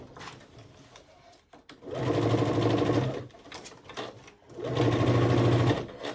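Sewing machine stitching back and forth over a canvas webbing strap on a denim tote bag, two steady whirring runs of a couple of seconds each separated by a brief pause, close and clear with no talking.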